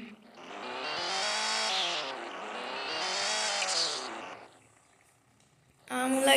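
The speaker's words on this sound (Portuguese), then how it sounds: "Fiz drift no posto de gasolina." A car drifts at a gas station with its engine revving hard in two long sweeping surges, then drops to a quiet lull before a loud burst returns at the end.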